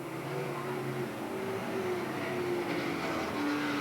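Race car engines at Willamette Speedway droning steadily at a distance, several overlapping tones shifting slowly in pitch through a continuous roar.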